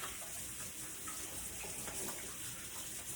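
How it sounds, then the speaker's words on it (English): Tap water runs steadily while hands are washed at a kitchen sink during cupcake baking. The rush is soft and continuous, with faint splashes. "Let me just wash my hands really quickly."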